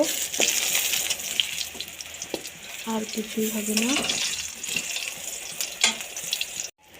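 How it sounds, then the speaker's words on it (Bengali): Oil sizzles and crackles steadily as eggplant fries in a pan, with a short stretch of nearby speech over the hiss. "বেগুনটা ভাজা হোক, তোমাদের দেখাই চলো"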